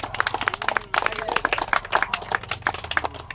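A crowd of villagers claps in a quick, uneven patter, the claps sharp and near, with a voice talking in the background.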